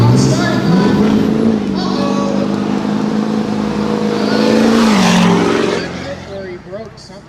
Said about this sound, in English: Donald Bollinger in the near lane, so inline 6 versus V8